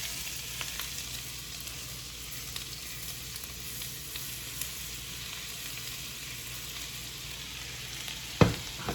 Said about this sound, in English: add that tablespoon of garlic. Just gonna move it around.